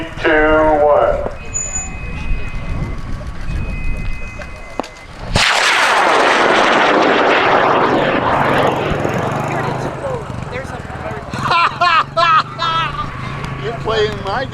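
Wildman Punisher 3 high power rocket on an L1000 motor launching at a Kansas rocket event, a sudden loud roaring blast after about five seconds that fades away gradually, with loud talk and announcements over it.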